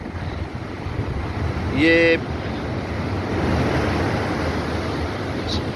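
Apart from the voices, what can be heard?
high sea waves crashing at Hawkes Bay beach, Karachi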